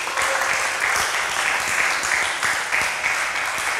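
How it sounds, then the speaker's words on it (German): Audience applause for a slide presentation at a PowerPoint karaoke event, a steady wash of many hands clapping throughout, loud and dense with no voices over it. "Bitte gebt uns jetzt den Applaus für die zweite Präsentation"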